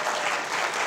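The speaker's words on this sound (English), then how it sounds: "By applause, please." Studio audience at a late-night Saturday talk show breaks into dense, steady applause, loud and continuous throughout the short burst with no voices on top.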